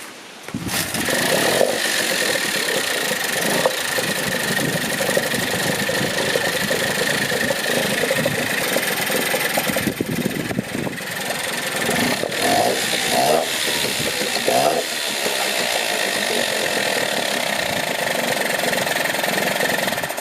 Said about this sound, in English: Free outboard, literally got it an hour ago. It's already running.